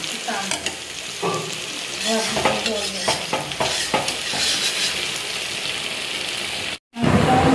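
Chicken stir-fried in a pan at home as the base for biryani: loud continuous sizzling with repeated close scraping stirs, broken by a brief silent gap near the end, and no talking.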